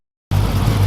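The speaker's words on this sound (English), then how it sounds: "as you hear, I've got the car running" A car with a 5.7 Hemi engine idles up close, cutting in abruptly as a steady, low rumble that holds without revving.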